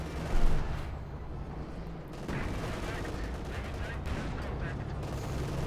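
Artillery bombardment in Company of Heroes 2, a Soviet versus OKW match: a loud blast near the start, then a continuous rumbling barrage of distant explosions and gunfire. Talk is faintly present beneath it.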